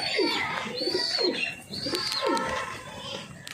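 Domestic pigeons coo close by, a series of soft, rolling calls that repeat in quick succession with faint chirps mixed in.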